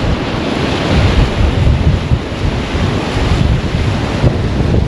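Strong wind howling down a river at a dam, roaring steadily and loudly against the microphone with gusty buffeting throughout and no talking.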